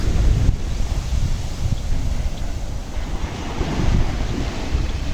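Sea surf rolls and washes steadily under strong wind buffeting the microphone, a low rumbling roar with no voices.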